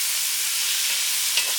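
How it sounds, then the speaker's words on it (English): Chopped onion frying in hot oil for a Jamaican brown stew chicken, a steady close hiss of sizzling that holds evenly throughout with a brief faint clink near the end. "Put the onion in the oil until it's almost transparent."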